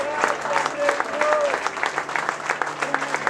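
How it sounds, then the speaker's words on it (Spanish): A church congregation keeps up rhythmic clapping during worship, loud and continuous, with a voice and a sustained musical tone running underneath. "siga aplaudiendo, siga aplaudiendo, siga aplaudiendo"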